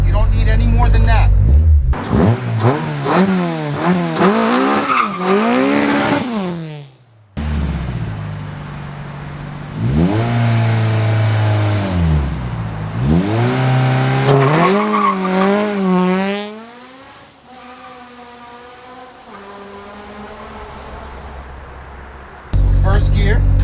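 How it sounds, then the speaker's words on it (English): A car does a burnout: the engine revs hard in repeated climbing sweeps as the tires squeal and skid, loud and close, with a voice talking over parts of it. "I'll just let it do a nice little burnout"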